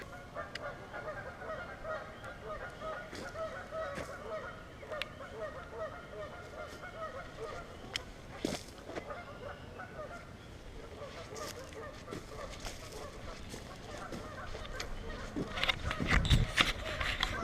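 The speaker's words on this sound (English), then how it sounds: "The Canadian geese will not shut up." Canada geese honk again and again at middle distance on a wooded nature preserve, their calls scattered through steady outdoor background noise while a voice comes and goes.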